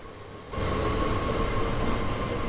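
A BR422 electric multiple unit running in the Train Sim World 2 game on the Rhein-Ruhr line, a steady interior rumble with a faint electric whine that swells and holds after a brief quieter start.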